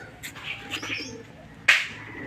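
Soft cooing from racing pigeons repeats for a couple of seconds, then a brighter, louder bird call cuts in near the end, with faint background noise.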